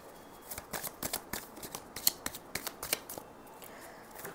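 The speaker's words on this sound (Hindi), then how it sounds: "last shuffle" Tarot cards being shuffled by hand, a quick run of crisp riffling flicks and taps, close and clear in a quiet room with no talking.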